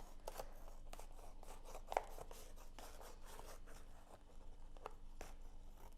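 Scissors snip repeatedly through the excess white border of a printed paper sheet meant for transfer onto tiles, a close, quiet run of crisp cuts and paper rustle with one sharper click midway.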